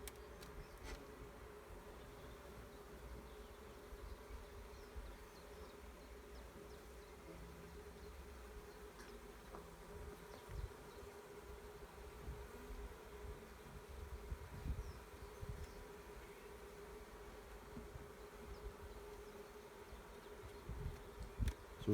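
Continuous low buzzing of many bees close by around a hive, a steady drone with occasional louder passes and soft knocks, no voices.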